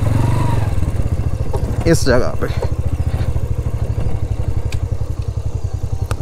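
A motorcycle engine idles with a steady low chugging throb, close and loud, as the bike is parked in the shade at a crowded outdoor camping spot, with someone briefly talking over it.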